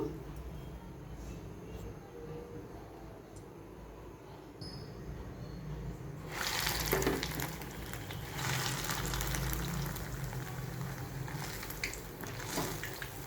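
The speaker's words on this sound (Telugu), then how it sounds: "ఇలా బ్రెడ్ని గోలించుకోవాలి మరి ఆయిల్లో తీస్తున్నారు" Slices of bread frying in hot oil in a kadai on a stove, a steady broadband sizzle that swells louder midway and keeps bubbling continuously, close by.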